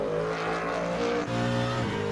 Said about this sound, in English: There's the reverb as it comes off throttle.